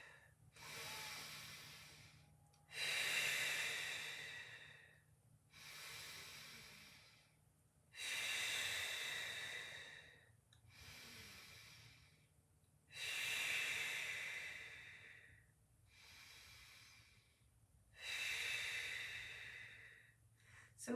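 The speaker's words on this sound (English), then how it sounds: "inhale through your nose, feel that breath come into your chest, feel your ribs expand, then release that breath out through the mouth" During a Pilates exercise, close, slow breaths alternate between a softer inhale through the nose and a louder, hissing exhale through the mouth, repeated in a steady cycle of about eight breaths.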